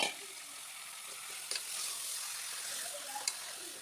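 Mutton sizzles in hot oil in a pan for a Telugu mutton curry while being stirred, a steady close hiss broken by a few soft scraping clicks from the mixing, with no talk present.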